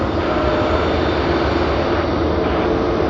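Airliner at Sydney Airport with a loud, steady engine roar that stays constant and close throughout, with no voices.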